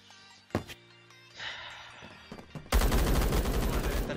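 Gunfire in the Roblox first-person shooter Phantom Forces: a couple of isolated sharp shots early, then a sustained rapid burst of automatic fire at the end, loud and close.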